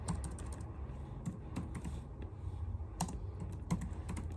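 Code typed on a computer keyboard: steady, close clicking keystrokes in irregular bursts, with brief pauses between runs and a low background hum.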